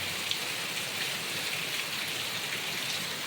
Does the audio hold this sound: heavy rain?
yes